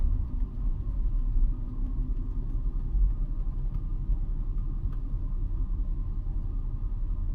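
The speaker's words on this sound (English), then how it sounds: "Sound like he put some nice exhaust on a regular ass Jeep." A deep, steady Jeep engine rumble with a throaty aftermarket exhaust tone, continuous and fairly loud throughout, like a vehicle idling or cruising nearby.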